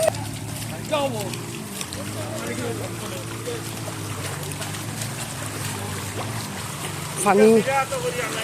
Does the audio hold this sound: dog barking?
no